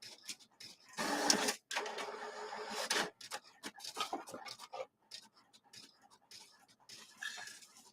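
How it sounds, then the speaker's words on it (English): A printer runs in bursts for several seconds, with whirring feed passes and stop-start mechanical clicks and buzzes, close and fairly quiet, with no talking. "Come on, printer, don't break, printer"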